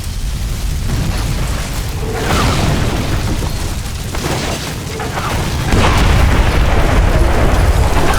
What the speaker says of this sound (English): Yeah, more missiles incoming.